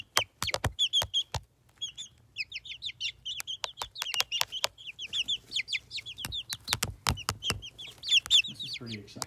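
Backyard chicks cluck and peep in quick, busy bursts, with close repeated chirping calls and occasional sharp clucks throughout.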